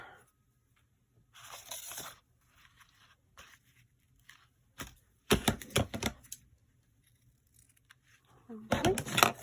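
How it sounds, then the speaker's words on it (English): Scissors cutting a piece off a craft material, heard as a few close, sharp snips and crisp crunching bursts separated by quiet gaps, with talking in places. "Let's just cut a piece off."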